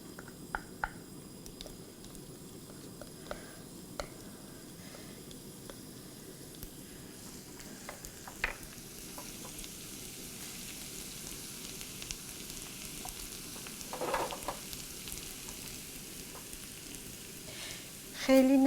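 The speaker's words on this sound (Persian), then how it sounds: "حالا این سیری رو که خرد کردم من اینو سرخش میکنم" Chopped garlic fries in olive oil in a pan, a faint, quiet hiss that grows slightly stronger over time, with a few scattered soft clicks and no voices.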